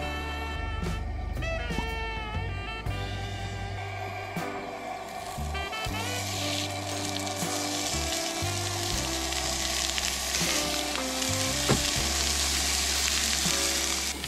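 Small steaks fry in a hot pan, giving a steady, close, continuous sizzle with crackling spits and occasional clatter of cookware, no one talking over it.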